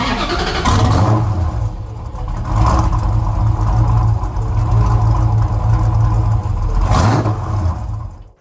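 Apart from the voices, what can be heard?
5.7 liter Hemi V8 engine starting, 1972 Plymouth Cuda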